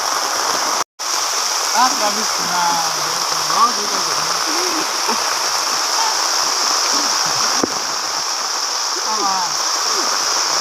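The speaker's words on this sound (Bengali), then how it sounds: "বৃষ্টি তামাম বৃষ্টি হইতেছে, এখনো বৃষ্টি হয়ে আছে।" Heavy rain pours down steadily after a hot day, a dense continuous hiss throughout, with someone talking quietly underneath at times.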